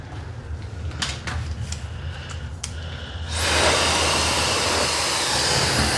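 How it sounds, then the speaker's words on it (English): A pet hair dryer switches on partway through and blows with a steady, loud broadband rush while a miniature poodle is groomed, following a few quieter clicks and handling noises. "I'm gonna come in with my other dryer for her hair, for her head."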